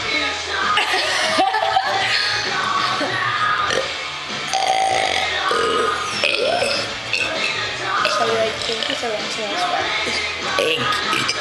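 After drinking soda, a person lets out loud belches mixed with chuckles and laughter, close to the mic.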